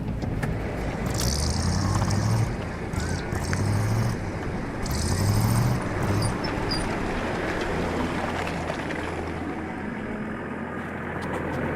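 Military vehicles grind uphill through snow toward a hilltop mast in Afghanistan, a steady loud engine drone with low rumbling pulses, continuous throughout with no speech.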